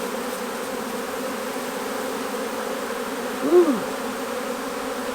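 Honey bees swarming over queen cells make a steady, close buzz throughout, with a brief louder swell near the end as one flies past; a short exclamation cuts in.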